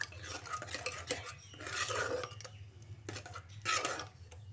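Urad dal being stirred with salt and turmeric in a pot, a steady scraping and rubbing of a spoon against the metal with a few louder sweeps, close by and with no talking.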